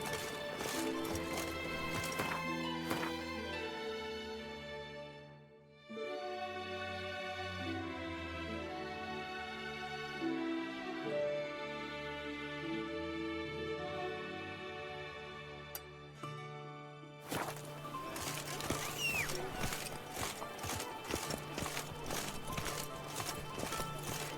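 Roach, Geralt's horse in The Witcher 3: Wild Hunt – Blood and Wine, gallops with steady clip-clop hoofbeats against a sustained musical score, and a brief neigh rises from the scene.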